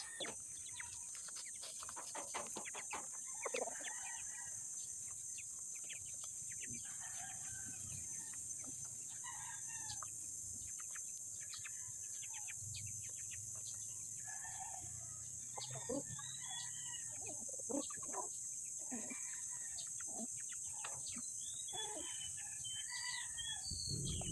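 Chickens cluck and call repeatedly nearby over a constant high-pitched hiss, with occasional louder squawks and a rooster-like cry.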